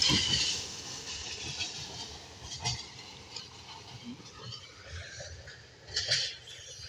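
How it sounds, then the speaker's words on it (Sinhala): A train passing along the railway line in Moratuwa, Sri Lanka, on a rainy day, heard at a distance as a faint, steady rumble with hiss and soft clicks of wheels over rail joints, with no talking. "කෝච්චියක් යනවා."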